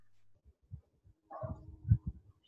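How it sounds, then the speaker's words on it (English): A dog barks in a few short, low bursts at moderate distance, spaced irregularly over a couple of seconds in an otherwise quiet room. "That's our dog."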